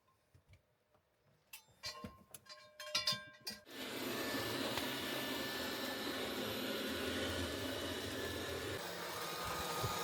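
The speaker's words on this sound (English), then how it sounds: "If you have flat floors in your van, robot vacuum is so worth it" A few clicks and taps, then a robot vacuum cleaner starts up inside a van and runs with a steady, loud whirring hum until the end.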